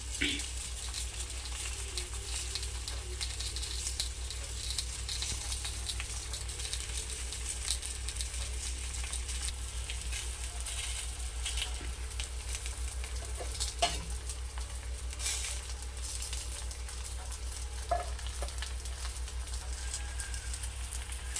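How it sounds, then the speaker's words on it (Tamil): Banana-leaf-wrapped fish frying on a dosa griddle gives a steady, close, even sizzle with a few faint crackles throughout, over a low hum. "வாழையில் வச்சு கட்டின எல்லா மீனையும் தோசைக்கல்லில் போட்டுக்கலாம்"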